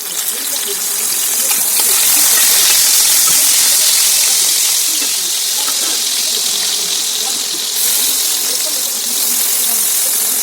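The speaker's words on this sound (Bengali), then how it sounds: "কলা ভাজা রান্না করব" Banana slices fry in hot oil, making a loud, steady rushing hiss that swells slightly and continues unbroken.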